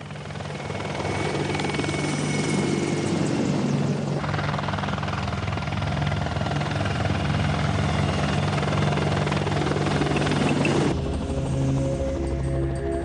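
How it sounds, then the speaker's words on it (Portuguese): A military attack helicopter flies low over the ground, its loud continuous rotor thump and engine roar filling the whole stretch, shifting in tone as it passes close by. "Voando assim perto do solo, os helicópteros conseguem se aproximar furtivamente do inimigo."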